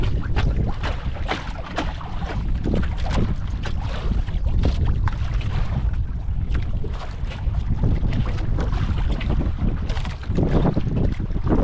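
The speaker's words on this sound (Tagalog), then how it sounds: "Grabe hangin eh." Strong wind buffets the microphone out on open water near a boat, a loud, continuous roar with gusting surges and no pauses.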